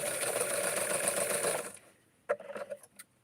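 A sewing machine stitches vintage cotton fabric, running in a loud, steady whir for about a second and a half before stopping, followed by a few faint clicks and handling sounds.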